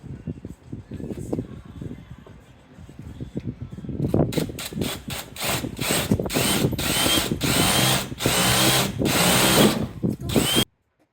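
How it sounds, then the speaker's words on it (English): A power drill bores a hole through the body of a brand new van during window installation; it starts with a few short spins, then runs in long, loud whirring bursts broken by brief pauses until it stops abruptly. "And then you must drill a hole for your jigsaw blade."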